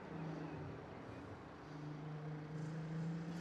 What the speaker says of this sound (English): The V6s sound so good.